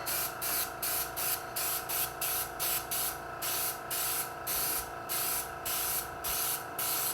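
Short bursts of airbrush spray lay a light coat of colour over a stencil on a cake, held at a distance, hissing in a steady rhythm of about a dozen pulses with brief gaps between them and no talk.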